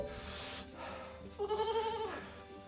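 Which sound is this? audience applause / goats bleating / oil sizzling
goats bleating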